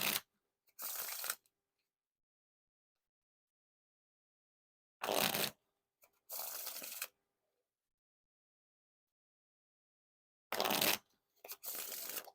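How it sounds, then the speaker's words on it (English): Theory11 Midnight Noc playing cards being riffle and bridge shuffled in three separate rounds, each a sharp burst of fluttering card snaps followed by a softer cascading bridge, clear and close with silence between. "There's no issues whatsoever with the riffle shuffles or bridge shuffles."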